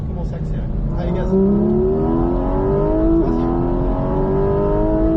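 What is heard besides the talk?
Porsche GT4 RS accelerating on race circuit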